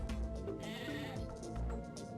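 Sheep bleating in the Game Boy Advance game Tak and the Power of Juju, a couple of wavering, buzzy bleats layered over game background music, close and moderately loud with no talking.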